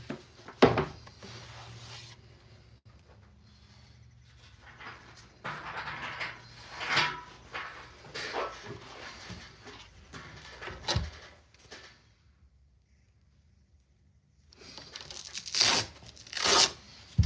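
Hand sanding of a handcrafted wooden skateboard deck, with intermittent rasping strokes and scrubbing bursts separated by quiet pauses, close and fairly soft.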